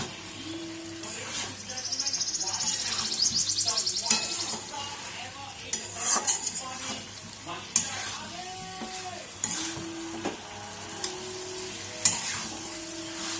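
Fried pointed gourd is stir-fried in oil in a pan for a potato and pointed gourd curry. A spatula clinks and scrapes at intervals over a steady sizzle, and a voice speaks at moments.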